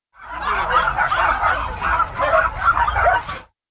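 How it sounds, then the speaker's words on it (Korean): A chorus of hundreds of dogs howling, whimpering and yelping together inside a run-down illegal puppy-breeding facility, loud and continuous for a few seconds. "수백여 마리의 개들이 울부짖는 소리가 터져나옵니다"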